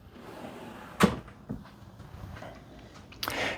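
Drawers in a Wonder of the Seas cruise ship cabin opened and shut, a sharp wooden knock, a lighter bump, then a sliding rattle and another thud, close and fairly quiet.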